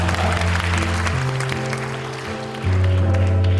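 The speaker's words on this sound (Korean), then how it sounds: "여러분 다시 한번 큰 박수 부탁드리겠습니다" An assembly crowd at a constituency report meeting in Incheon's Seo-gu claps loudly for welcomed guests. The broad clapping runs under steady sustained low tones, dips briefly midway, then swells again.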